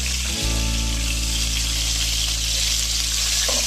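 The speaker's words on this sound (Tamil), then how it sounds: "நல்லா வெட்டி வச்ச வெங்காயத்தை வந்து போட்டுடலாம்." Chopped onions hit hot oil in a pan for vegetable biryani and fry with a loud, steady, close sizzle that follows a brief thump at the start.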